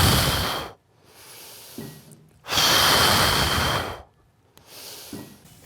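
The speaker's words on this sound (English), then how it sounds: "And you inhale." Loud, breathy inhales and exhales alternate during a leg extension exercise, two long strong breaths separated by quieter ones and near-silent pauses.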